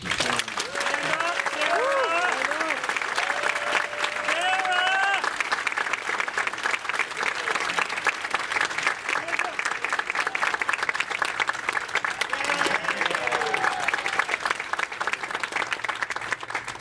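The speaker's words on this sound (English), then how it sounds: "let's get a round of applause" Sustained applause from a banquet crowd, continuous and fairly loud, with some voices calling out and talking over the clapping early on.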